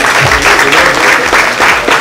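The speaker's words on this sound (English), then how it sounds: "A huge round of applause." A loud, dense round of applause from an audience at a model-search contest in India as the winner is named, continuous and close with no break.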